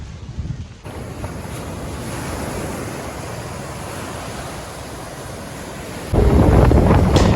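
Stormy sea surf on the Sri Lankan coast, a continuous broad roar of waves mixed with heavy wind buffeting the microphone, growing louder and harsher toward the end.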